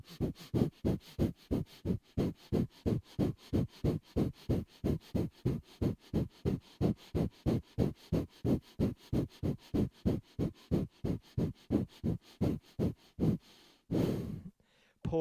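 Rhythmic, forceful breath-of-fire exhales during a kundalini breathing exercise, about three sharp pumps per second repeating steadily for roughly thirteen seconds, close and clear, ending with a longer breath.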